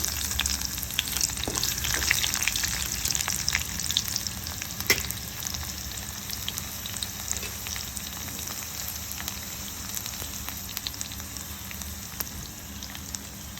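Garlic and tempering seeds frying in hot oil, with a continuous dense sizzle and scattered sharp pops and splutters throughout.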